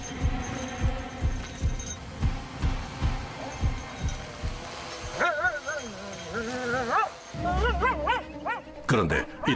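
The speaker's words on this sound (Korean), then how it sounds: "시체 냄새가 나는 곳을 찾으면 흥분해서 짖는다고 하는데요" Mir, a cadaver detection dog searching a fire scene, barks excitedly in repeated sharp bursts with whimpering and high yips. Rhythmic thumps and rustling come before the barks, and a voice can be heard nearby.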